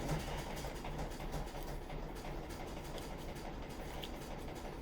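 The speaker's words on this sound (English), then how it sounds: "that's my washing machine" A household washing machine runs with a steady low rumble and faint rhythmic clatter, heard at a moderate distance with no talk over it.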